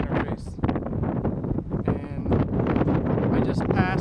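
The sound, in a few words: strong wind on a hill during bicycle trip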